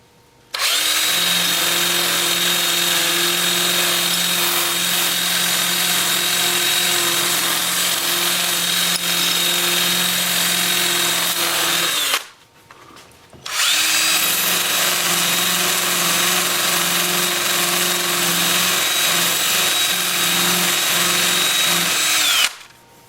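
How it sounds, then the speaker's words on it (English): Wood vase bark sanded on a spinning lathe with 2-inch sanding discs on a drill, a loud, steady whining grind running about eleven seconds, a brief pause, then a second equally long pass. "with the lathe spinning, I'm just going to use my 2-inch sanding discs"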